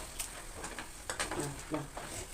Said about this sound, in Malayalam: തേങ്ങ വറുക്കുകയാണ്.